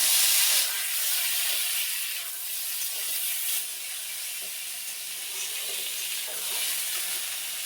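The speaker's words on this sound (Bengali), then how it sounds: "ছোলা আর মটর সেদ্ধ করে নিয়েছি, এটাকে ভাজবো। আর কড়াইতে তেল দিয়েছি, শুকনো লঙ্কা ফোড়ন দিয়েছি" Chickpeas and peas sizzle in hot oil in a kadai with dried red chilli, a steady, close frying hiss that carries on throughout with small crackles and no talking.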